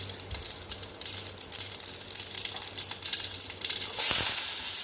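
Mustard seeds sizzle and crackle in a little hot oil in a kadai, a close, continuous fizz with scattered sharp pops. The sound thickens toward the end, when a louder burst arrives, and no one speaks.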